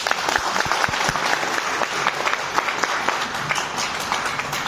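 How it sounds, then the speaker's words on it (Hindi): A loud round of applause rises from a seated audience at a company development meeting, close, busy clapping with sharp individual claps standing out, sustained evenly throughout. "एक बार जोरदार तालियां।"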